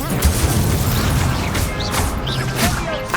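Casting of the Incendio fire spell in a Wizarding World video game, a burst of crashing, whooshing magical effect sounds in a short, dense stretch of gameplay noise.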